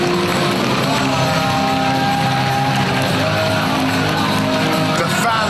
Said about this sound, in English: The fans, you can hear them applaud.